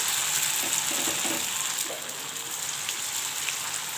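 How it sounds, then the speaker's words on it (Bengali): Flattened spicy sago pakoras fry in hot oil with a steady, close, bubbling sizzle that hisses on without pause and with no voices. "এরপরে এটা তেলটা গরম হলেই তেলের গরমে ছেড়ে দিতে হবে।"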